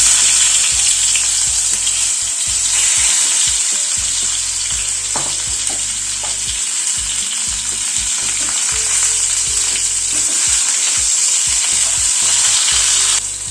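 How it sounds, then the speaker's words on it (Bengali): Bhetki fish pieces frying in hot oil give a loud, continuous crackling sizzle, with occasional utensil clatter and bubbling spatter close by. "এবার ওই তেলে মাছটা ভেজে নিচ্ছি।"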